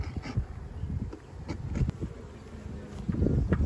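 A low, continuous buzzing of many honeybees close by at an open hive, rising and falling with the odd louder pass of a nearby bee.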